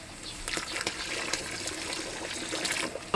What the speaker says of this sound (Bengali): তো আবারও জল দেবো নোংরা তোলার জন্য।